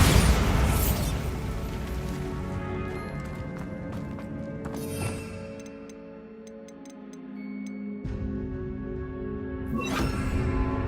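Bombarda explosion spell in Hogwarts Legacy blasting a stacked bone archway, a loud burst at the start, a second smaller crack midway and another near the end, each followed by ringing, clattering debris and fading echoes.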